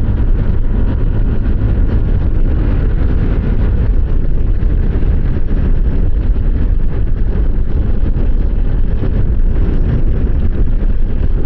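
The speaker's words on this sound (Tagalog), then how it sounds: "lakas ng hangin" Loud, constant wind buffets the microphone with a dense roaring rumble that never lets up, on a city street in BGC, Taguig.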